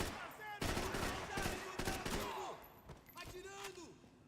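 Bursts of gunfire crackle through a firefight in the video game Max Payne 3, with rapid volleys and single loud shots layered over background chaos and a few high-pitched tones.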